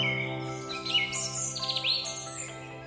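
A white-crested helmetshrike gives a series of sharp chirps and squeaky whistled notes over a steady sustained musical tone.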